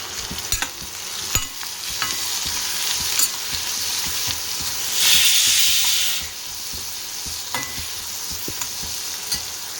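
Food frying and sizzling in a pan with turmeric powder, stirred with steady scraping strokes and a brief louder hiss midway, no voices.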